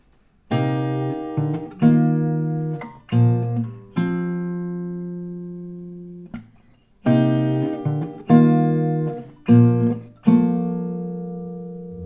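Single guitar notes picked one at a time in a slow melody, each ringing and fading, with a few quicker runs, close and clear with no voice.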